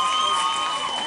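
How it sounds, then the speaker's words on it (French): Audience applause at a school revue show: steady broadband clapping from a crowd, sustained and fairly loud for the whole second, with a faint tonal hum running underneath. "On peut les applaudir encore."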